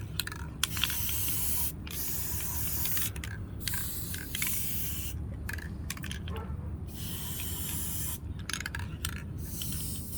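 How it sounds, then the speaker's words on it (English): A spray paint can sprays in repeated hissing bursts separated by short pauses, loud and close, with a steady low rumble underneath. "I'm just going to spray paint this so it'll be all even"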